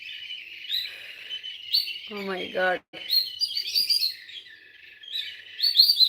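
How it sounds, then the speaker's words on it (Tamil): Myna birds chirp and tweet in a dense, continuous chorus of high calls, close and lively, with a brief exclaiming voice partway through. "மைனா குருவி சத்தம் போடுது."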